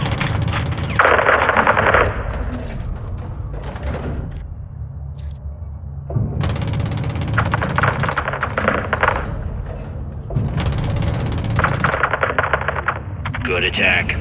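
Rapid automatic gunfire from Call of Duty comes in three long sustained bursts separated by pauses, loud and close, with game radio chatter and other voices during the gaps.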